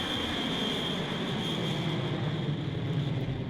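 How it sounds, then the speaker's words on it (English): A plane takes off in a comic-book audio drama, heard as a steady, loud engine roar with a high whine held above it, continuous and close. "just in time for them to see Brunhilde's plane take off"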